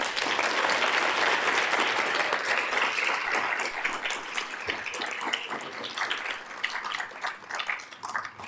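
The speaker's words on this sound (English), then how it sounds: "Let's all give her another round of applause." Sustained audience applause fills the hall after a formal oration, dense and steady clapping from a large crowd that gradually thins toward the end.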